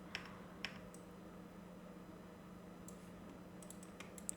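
Rapid clicks of a computer keyboard being typed on, a short burst of keystrokes followed by a pause and then another cluster, close and fairly quiet over a low steady hum.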